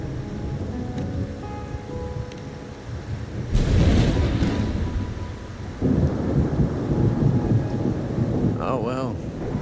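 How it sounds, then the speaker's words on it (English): In the video game Wuthering Waves, heavy rain hisses steadily while a loud roll of thunder swells midway and rumbles on, with a brief voice near the end. "My granddaughter told me Raguna's rain is a bad omen. Can't argue with that now"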